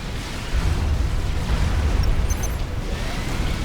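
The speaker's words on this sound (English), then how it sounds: "let's have the battleships destroy him from a safe distance" Battleships bombard enemy units in a real-time strategy video game, producing a dense, rumbling barrage of explosions and booms that roll continuously without pause.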